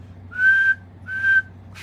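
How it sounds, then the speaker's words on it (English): A speckle-belly goose call gives two clean, airy whistles, each held under half a second, up close against a quiet room. "Just a clean whistle for right now."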